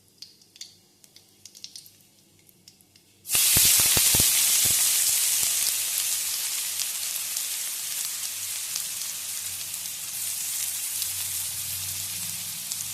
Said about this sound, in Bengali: পেঁয়াজটাকে এবার একটু ভাজা ভাজা করবো